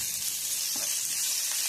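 Crushed chili, curry leaves and salt sauté in a hot pan with a steady, close sizzle and faint stirring scrapes, with no voices.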